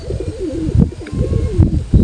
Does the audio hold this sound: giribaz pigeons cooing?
yes